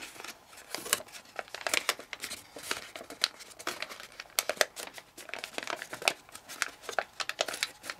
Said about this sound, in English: So we're making a new fold. We're folding this edge to the flap.